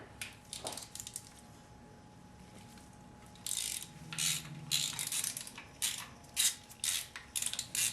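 A ratchet loosens 10mm bolts on the engine plate of a Nissan SR20DET, with a few faint clicks at first and then repeated loud bursts of rapid pawl clicking, close up and without talk.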